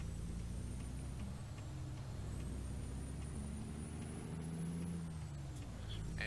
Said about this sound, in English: The Jake brake. Or the air brake, if you want to be very complicated with me.